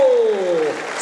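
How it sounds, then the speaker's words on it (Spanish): A short burst of crowd applause for San Miguel Arcángel at a religious celebration, a broad clapping wash under a bright sustained tone, lasting only about a second. "10 segundos de aplausos"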